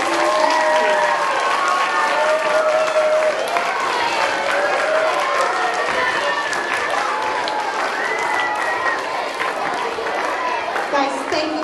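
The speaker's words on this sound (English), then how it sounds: "Give them a round of applause." An audience at a Christmas chorus presentation gives a sustained round of applause mixed with crowd chatter and cheering, with voices and sung or called-out tones weaving through the clapping throughout.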